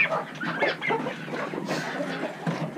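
Ducks on a homestead farm call in a busy cluster of quacks and clucks, close and overlapping with no pause.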